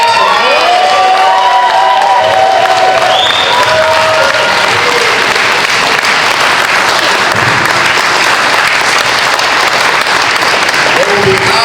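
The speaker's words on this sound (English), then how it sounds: "I would like to give a standing ovation to all of the Alien Rangers" A standing ovation for the Alien Rangers at a Power Morphicon fan convention panel, loud sustained applause from a large crowd mixed with cheers, whoops and shouting that fills the room without pause.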